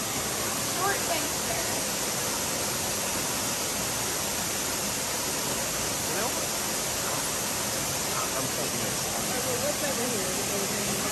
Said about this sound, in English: Probably just another shot of the waterfall.